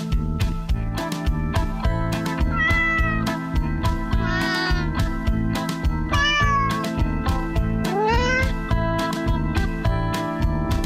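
Sung, pitch-bending cat-like meows rise over a steady full-band music track in a comic cat song, several wavering yowls standing out above the instruments throughout.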